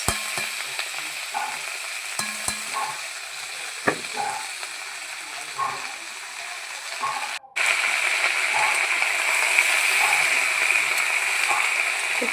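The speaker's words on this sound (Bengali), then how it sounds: "তো এরপর আমি পুঁই শাকগুলোকে আস্তে আস্তে করে দিয়ে দিচ্ছি।" Malabar spinach is added to hot oil in a pan, giving a steady close sizzle and frying hiss with scattered stirring clicks, which swells louder partway through as more leaves go in.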